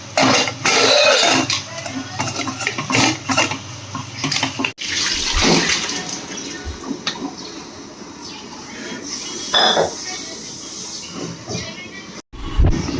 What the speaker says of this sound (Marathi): कुकर घेतलाय त्या कुकरमध्ये मी बटाटे टाकतोय शिजण्याकरता ह्याच्यामध्ये पाणी घेतलंय थोडंसं